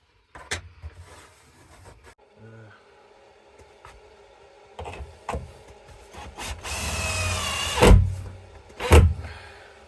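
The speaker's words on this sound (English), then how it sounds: "just screwing it in from the side before we do it from the inside of the wall" A power drill drives screws to fix a batten into the shower wall of an Iveco Daily van conversion, with brief whirring bursts and two louder spins near the end among knocks and handling noise.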